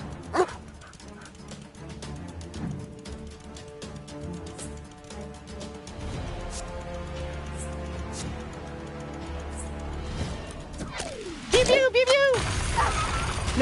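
Dogs in the video game South Park: The Fractured But Whole bark and yip repeatedly over a busy game soundtrack, with a louder burst of yelping and whimpering near the end.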